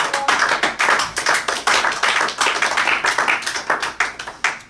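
A church congregation claps in praise during a worship service, a dense run of sharp, fairly loud handclaps in steady rhythm with no talking.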